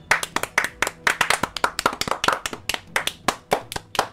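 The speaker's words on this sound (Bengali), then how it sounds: "সবাই হাততালি দিয়ে ওঠে" A group of people claps together in brisk, uneven applause, with many close, sharp hand strikes repeating steadily for about four seconds and no voices.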